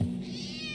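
A single cat meows once in the video game The Operator, a short, clear, fairly close cry that rises and trails off, alone without talk.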